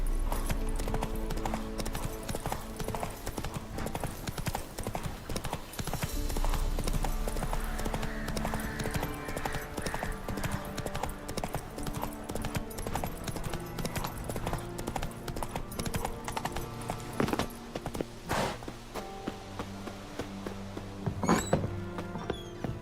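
Horse hooves clip-clopping in the video game The Witcher 3, a steady walking rhythm of hoof strikes under game music and ambience, with occasional thunks and a brief whinny.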